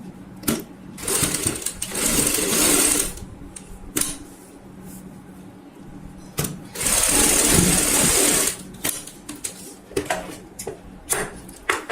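A sewing machine stitches a cushion cover near the zip in two loud bursts of rapid needle chatter, separated by quieter pauses with handling sounds.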